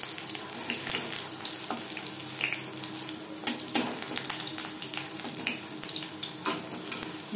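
Jute leaf pakoras (paat shaak bora) frying in hot oil: a steady, dense sizzle and crackle runs throughout, with occasional sharper pops and spatters, close and fairly loud, with no talking.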